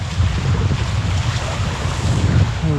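Wind and rushing water aboard a Nacra 570 catamaran sailing fast in 5–6 Beaufort offshore wind over very flat water, a loud, continuous, close roar of gusting air and spray with no talk.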